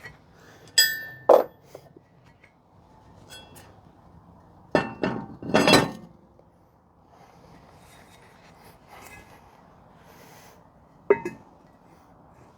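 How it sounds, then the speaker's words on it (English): Metallic clinks, scrapes and thunks come from a brake rotor being worked off a Jeep Renegade hub, in scattered bursts of clanks with quiet gaps between them. "Gonna go ahead, pull the rotor."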